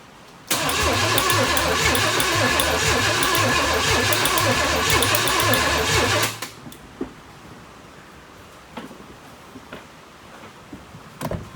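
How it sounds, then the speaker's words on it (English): A two-door Chevrolet Tahoe engine cranks loudly and steadily for about six seconds with its fuel pump relay removed, then stops, leaving faint clicks and low background noise. "Go ahead, crank."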